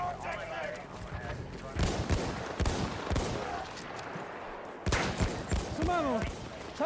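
Battlefield 1 combat delivers a clustered series of sharp gunshots and heavy booms in bursts, with quieter stretches between volleys, while a player talks over the action.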